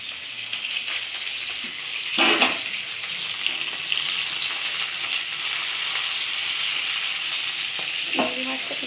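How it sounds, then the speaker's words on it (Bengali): Prawn heads frying in a pan, a loud, steady hissing sizzle throughout, broken by a couple of short stirring scrapes. "আমি মুড়োগুলো এর সঙ্গে ভেজে নিচ্ছি।"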